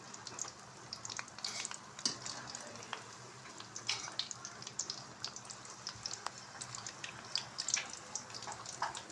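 Vegetable chicken rolls frying in oil over a low flame give a faint, steady crackle with scattered small pops and spits throughout, close by and with no voices.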